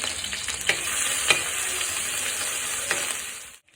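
Ginger, garlic and green chili paste fries in hot oil, giving a steady close sizzle broken by a few scraping stirs of a spoon in the pan, then cutting off abruptly; no one speaks.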